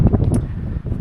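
Wind buffets the microphone on a windy hilltop viewpoint with a dense, low rumbling roar that fills the whole moment.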